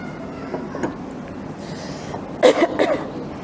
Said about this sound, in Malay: Ustazah kalau dah batuk memang kena berhenti ya tuan-puan.